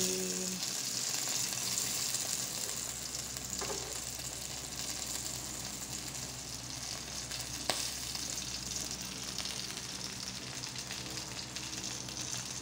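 Pork longganisa fries in a pan with a steady, dense crackling sizzle that goes on without a break, with a soft scrape or tap now and then and no voices.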